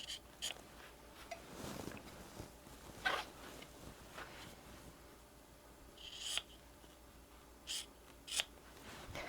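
Scissors snipping through fabric edges of a scrap quilt block, a series of close, crisp cuts at irregular intervals over a soft background hiss.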